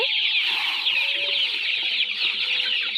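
Native country chicken chicks peep and cluck continuously while pecking at feed, a close, busy chorus of high chirps with no talking.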